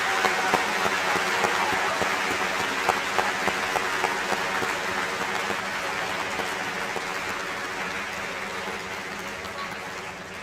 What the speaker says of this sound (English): Please join me in a round of applause for this special group of employees and volunteers.